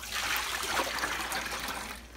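Water pours from a mason jar used for microwave wool dyeing, a steady splashing trickle lasting about two seconds, close and moderately loud, with no talking.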